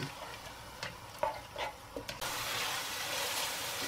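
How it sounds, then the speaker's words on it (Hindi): Tomatoes frying in oil for masala fish curry give a hiss under the scrape of a spoon stirring in the pan, with several stirring strokes before a louder steady sizzle takes over. "अच्छी तरीके से भून के फिर बाकी मसाले को डालेंगे"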